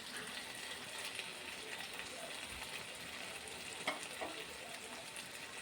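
A pan of pointed gourd and rice curry with sugar is stirred, a steady soft sizzle running throughout with a couple of brief scraping clinks near the end, fairly quiet and close.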